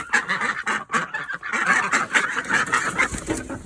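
Several ducks quack and honk close by in quick, overlapping bursts, loud and busy throughout with no talking.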